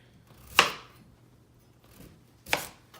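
Two sharp knife chops through sweet potatoes on a cutting board, about two seconds apart, each a crisp, fairly close thud with a short tail, with quiet pauses around them.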